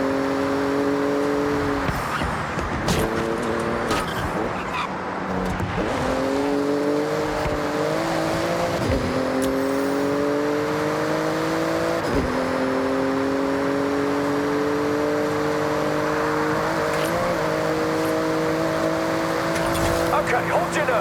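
Porsche engine in a racing game, revving steadily upward through several gear shifts with rising, buzzy tones, loud and continuous, while a voice talks over it.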